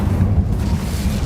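Incendio fire spell in Hogwarts Legacy, a loud low rumbling roar of flame, dense and sustained for just over a second with no voices.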